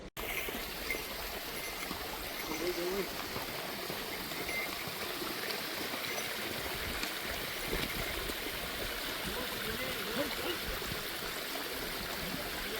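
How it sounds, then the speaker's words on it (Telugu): Water flows steadily from a waterfall stream along a mountain trail on the Amarnath Yatra route, a continuous broadband rush at moderate level that holds evenly throughout with no voices over it. "వెళ్ళే దారిలో ఇలాంటి వాటర్ ఫాల్స్ చాలా ఉన్నాయి"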